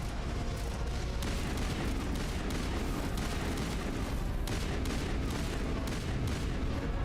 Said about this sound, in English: That's another missile coming in.